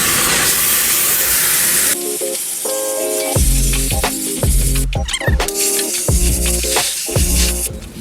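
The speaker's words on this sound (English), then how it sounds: "Now I'm gonna start spraying the bowl." A pressure washer cleaning a kitchen exhaust fan bowl blasts a loud, hissing spray continuously, broken by repeated mechanical pulsing thuds and hums as the spray shifts across the surface.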